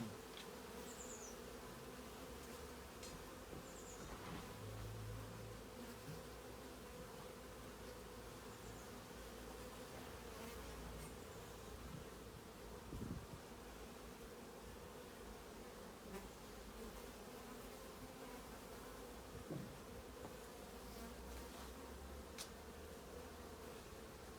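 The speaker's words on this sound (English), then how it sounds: "They're everywhere on the outside of the hive." Honey bees swarming on the outside of a hive, a dense, steady buzzing drone heard up close throughout, with individual bees flying past now and then.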